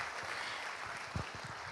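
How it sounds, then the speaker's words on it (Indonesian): An audience applauds at an Indonesian awards ceremony for stunting prevention, a steady wash of clapping from a large hall with a few louder claps near the end. "Kita berikan sekali lagi tepuk tangan untuk kita semua."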